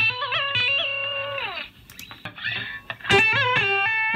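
Electric guitar through a Brownface amp model plug-in rings out in sustained, slightly overdriven notes and bends, dipping into a brief quieter patch before a strong chord returns near the end.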